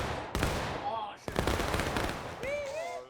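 Massed musket volleys crackle through a Civil War battle in War of Rights, with dense overlapping shots near and far, a couple of sharp bursts standing out, and voices calling over the din.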